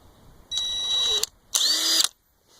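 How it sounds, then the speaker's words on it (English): A Craftsman C3 19.2V half-inch cordless electric impact wrench whirring in two short bursts, each about half a second to a second long with a high motor whine, separated by a brief pause, with no speech. "thanks for watching this little tool review on my new half-inch Craftsman electric impact wrench"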